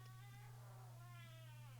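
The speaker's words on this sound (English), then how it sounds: "That's just my cat. My cat making weird noises." A cat in heat meows in a drawn-out, wavering yowl, faint and somewhat distant over a steady low electrical hum.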